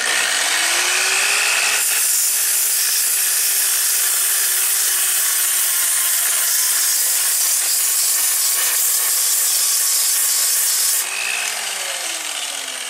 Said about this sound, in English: So I'm just going to take my old automotive body grinder.